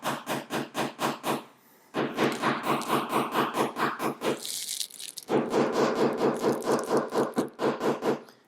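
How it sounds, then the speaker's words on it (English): Rubber-tip hammer tapping laser-cut phone stand legs into place, a rapid, regular series of close, sharp knocks in two bursts separated by a brief pause and a short scraping rub. "All you got to do is use this rubber tip hammer."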